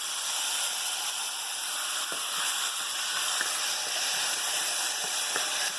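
Onion and tomato frying in a pan for albondigas meatball soup, a steady, loud hissing sizzle with faint pops, heard alone without talk.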